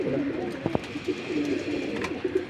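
Pigeons coo softly in repeated low, throaty calls, with a couple of sharp flutters or taps amid a quiet outdoor background.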